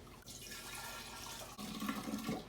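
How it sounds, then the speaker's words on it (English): Cold tap water pours steadily into a container for brewing kombucha, a continuous splashing rush with a brief break midway and a fuller, deeper stream afterward, nearby with no talking. "I'm just going to add cold water, and I'm going to be adding about 8 cups of water."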